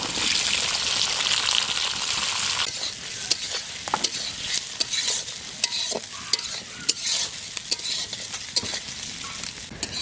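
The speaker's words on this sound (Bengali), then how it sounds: "আমাদের পেঁয়াজ কিন্তু ভাজা চলছে" Chopped onion, garlic and green chilli fry in hot oil for a village-style chicken kosha, a steady close sizzle broken by sharp clicks and scrapes of stirring throughout.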